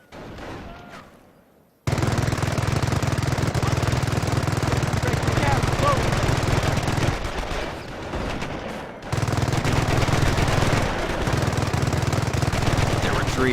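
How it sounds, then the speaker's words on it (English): A Company of Heroes MG emplacement fires long, sustained bursts of rapid machine gun fire, loud and dense, pausing briefly between volleys, with battle noise in the background. "The MG emplacement is suppressing the enemy troops."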